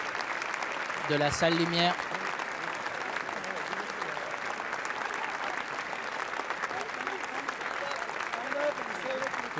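A large festival audience fills a big hall with sustained applause that stays dense and steady throughout, while someone speaks over it near the start.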